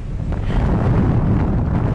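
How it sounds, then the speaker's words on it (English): Strong January wind on the open Guernsey coast buffets the microphone as a loud, steady low rumble with gusty fluctuations. "it's windy"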